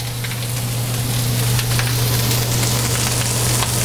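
Sisig sizzling hard in a very hot pan, a dense, steady crackling hiss that holds loud and even throughout, with a low constant hum underneath and no talking.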